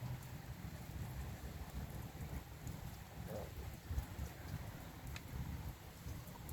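Rain falls steadily over a rice paddy in the middle of a farm field, a faint continuous hiss with low rumbling underneath.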